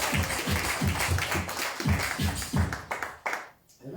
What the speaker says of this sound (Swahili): Bigis makofi.